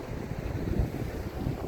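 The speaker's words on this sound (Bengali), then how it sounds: "মারাত্মক জোরে হাওয়া।" Strong wind blows through Yumthang Valley among snowy mountains, a loud, close, buffeting roar hitting the microphone with gusty swells and no pause over the short stretch.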